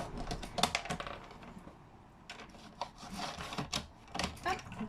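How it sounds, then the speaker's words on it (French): Paper is pleated every centimetre, heard as close, dry crinkles, scrapes and sharp creasing taps in irregular bursts with quiet gaps between them. "Je vais faire un pli tous les 1 cm."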